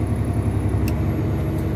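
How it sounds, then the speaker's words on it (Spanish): A Kenworth truck engine runs under throttle with cruise control engaged, a loud, close, steady diesel rumble with a low rhythmic throb that holds without a break. "entonces aceleramos, sostenemos y como vemos ahí ya subió, pero quiero acelerarlo más"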